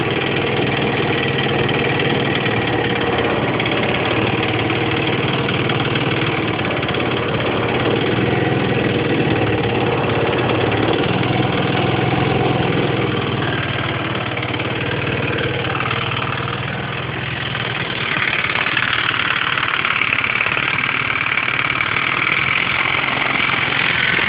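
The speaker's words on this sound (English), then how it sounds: "It's a really big scooter." A big Lingben Messiah gas scooter moped idles steadily for the full stretch, its engine note a continuous close, moderately loud drone that shifts slightly in tone partway through, with no one talking.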